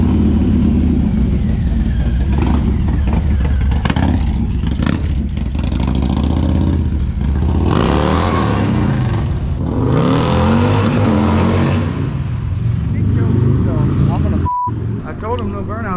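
A Harley-Davidson Milwaukee 8 motorcycle with an HPI exhaust revs loudly and pulls away, its deep engine rising and falling with throttle, while people talk over it.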